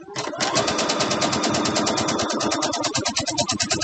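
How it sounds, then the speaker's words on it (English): A sewing machine stitches a seam on a Christmas stocking, a close, loud, rapid mechanical chatter at a steady, even pace that runs without pause. "So I'm going to do a couple of stitches and then back stitch."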